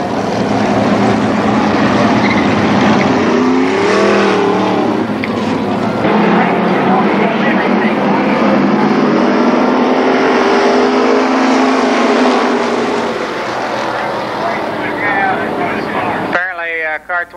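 Race cars roar around a motor speedway during a 1995 main event, a loud continuous engine drone with passing pitch sweeps and a blend of crowd and track noise throughout.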